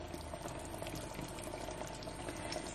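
Dried anchovy curry with coconut milk simmers in a pot, giving a steady, faint bubbling and popping throughout with no talk.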